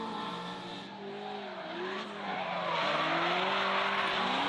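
A V8-swapped Mazda RX-7 drift car screams at high revs through a drift, with the engine note rising and falling and tire squeal running continuously underneath.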